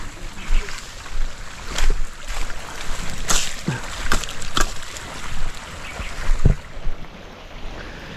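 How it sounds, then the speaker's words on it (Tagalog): Strong water current rushing steadily outdoors, a continuous broadband roar with surging swells and occasional splashes; faint voices are heard beneath it. "lakas ng tubig"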